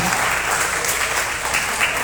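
Audience clapping at a school reading contest, a dense, continuous burst of applause from a crowd, loud and even throughout the short span.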